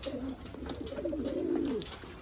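Pigeons coo softly in a low, rolling warble, fairly close, against quiet background noise.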